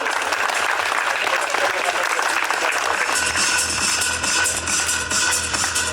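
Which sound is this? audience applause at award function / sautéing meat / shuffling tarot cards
audience applause at award function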